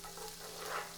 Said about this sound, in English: I'm also going to add the white part of the green onions and add that in and saute.